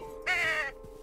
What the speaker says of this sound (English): What are you? Oh, you're a bird.